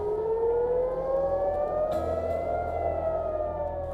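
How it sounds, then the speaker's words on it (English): An air raid siren wails loudly and continuously during a missile attack, its rising tone sweeping upward, with a deep rumble underneath and no voices. "Air raid sirens are wailing."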